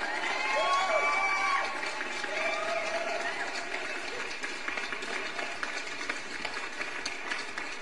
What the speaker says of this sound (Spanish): un aplauso para la gente que está por allá al otro lado del charco